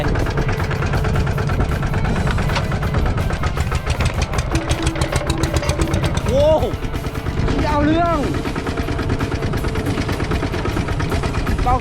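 A farm tractor (Thai "e-taek") fitted with a TSK four-valve exhaust pipe chugs loudly and roughly with a rapid popping exhaust throb, close by, while a person talks over it partway through.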